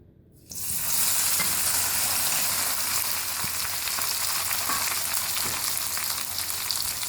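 Masala-stuffed okra drops into half a cup of hot oil, and a loud, dense sizzle bursts on after a brief quiet moment, then holds steady and close with faint crackles.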